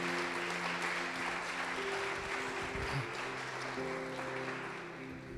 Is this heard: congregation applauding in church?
yes